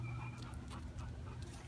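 A pit bull panting, soft rhythmic breaths with a faint whimpering edge, close but quiet, over a low room hum.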